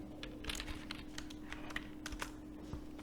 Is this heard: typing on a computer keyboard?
yes